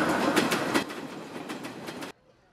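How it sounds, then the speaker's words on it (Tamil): A train rumbles past with a rhythmic clickety-clack of wheels over rail joints, loud and steady, then cuts off abruptly near the end. "ஆனா பின்னாடி ட்ரெயின் கிராஸ் ஆகுற சத்தம் கேட்டுச்சு."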